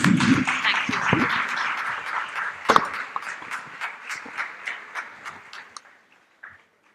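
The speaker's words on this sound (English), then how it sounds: "Please join me in applauding our incredible panelists." Audience applause for panelists at a talk event, a dense round of clapping that thins into scattered individual claps before fading out near the end.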